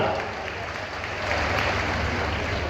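A crowd at a Madhya Pradesh public event with the chief minister claps in a steady, broad wash of applause for a few seconds, with no pauses.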